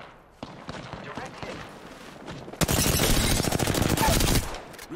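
Automatic gunfire in the video game Apex Legends, scattered shots first, then a loud sustained burst of rapid fire lasting about two seconds, close, with players talking over it.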